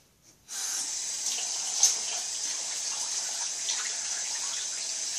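A tap opens and water runs steadily from it to wet hair, a close, even splashing stream that carries on without pause and with no talking.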